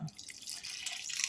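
Water is poured in a thin trickle into white béchamel sauce in a pan. It makes a soft, close splash and drip that lasts about a second, with no talking.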